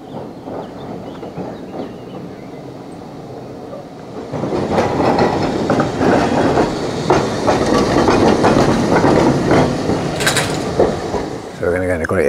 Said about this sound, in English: There comes the tram, look at that.